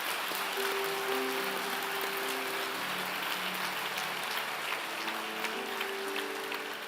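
A church congregation applauds in a steady, crackling patter of many hands, sustained and fairly even for several seconds, with organ-like tones underneath.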